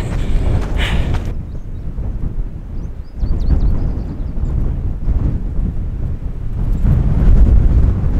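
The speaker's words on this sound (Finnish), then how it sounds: "täällä on niin tuulista" Strong wind roars continuously across the microphone on a hiking trail at night, loud and buffeting, with gusts rising and falling and no talk.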